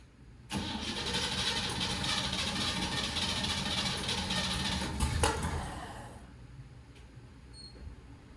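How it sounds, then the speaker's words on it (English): The engine of a 1969 truck runs rough and loud, roaring steadily for several seconds before cutting out abruptly, with a faint background hum continuing after it stops. "It was running a lot better, but it was still running rough."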